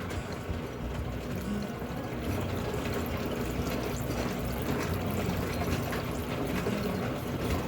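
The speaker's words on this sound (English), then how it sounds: "Let's add water." Water pours into a rock tumbler barrel already loaded with rough rocks and coarse 60/90 silicon carbide grit, a steady close splashing and gurgling stream that runs without a break, with no talking.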